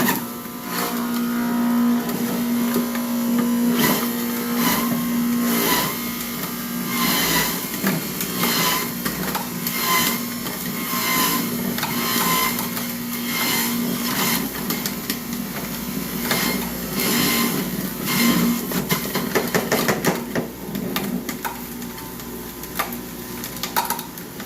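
A juicing machine grinds produce into a green drink, giving a loud, steady mechanical whir with a constant hum and irregular crunching and knocking throughout, close and with no speech over it.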